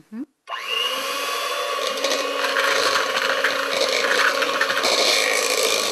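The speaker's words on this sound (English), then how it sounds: "we want to add the sugar to the margarine and blend again until everything is smooth and thoroughly mixed. Again with the setting to medium" An electric mixer running at medium speed, blending margarine and sugar, gives a steady whirring, grinding drone close by that starts abruptly after a brief click and holds for several seconds.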